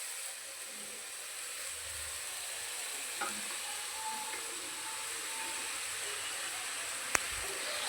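A paste of ginger, tomato and green chili hits hot oil with cumin in the pan for palak paneer, giving a soft, steady sizzle and hiss, fairly quiet and close, with a sharp click of a utensil near the end.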